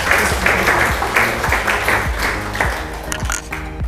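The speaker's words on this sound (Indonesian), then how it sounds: "Tepuk tangan dong buat Ardi." A classroom of students claps for a classmate, a close, energetic burst of applause over some background noise and faint voices, held steady throughout.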